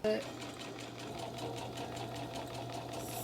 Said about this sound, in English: So now we are going to sew this vinyl onto the placemats.